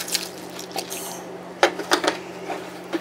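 Milk is poured into a bowl of cornflakes, giving soft wet splashes and squishy crackles, a few sharper drips and clinks spaced irregularly, close by and moderately quiet.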